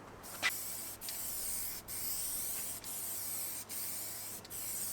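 Aerosol spray paint hisses onto a scaffold board coffee table in short repeated bursts, each a broad steady hiss broken by brief pauses roughly every second, close and clear with no voices.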